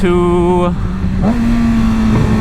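A Harley motorcycle engine, ridden alongside a Yamaha R6, sounds close and loud. Its pitch climbs and revs, drops as the rider shifts, then settles into a steady drone.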